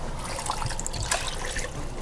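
Water pours steadily from a can into a pressure cooker holding gravy and groundhog for a hobo stew, a continuous close trickling splash without talk.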